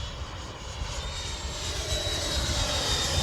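A Freewing F-22 90mm RC jet on a 6S setup makes a steady, broad whine and rush that grows slightly louder as it descends toward the runway, with no talk.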